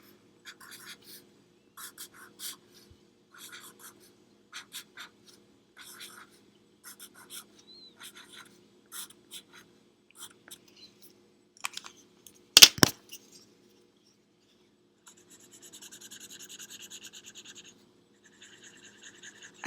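Pen or pencil scratching out a character's name beneath a finished Mike Wazowski drawing, a run of short, quiet, close strokes in an otherwise silent room, with one sharper clack partway through.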